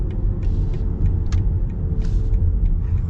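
A 2023 BMW iX M60 electric car playing its expressive synthetic drive sound while cruising, a steady low rumbling hum with faint intermittent higher tones layered over road noise, close and continuous, no talking.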